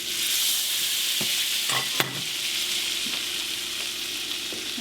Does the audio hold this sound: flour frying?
yes